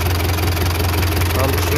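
Old tractor engine idling with a steady low chugging rumble, moderately close and continuous.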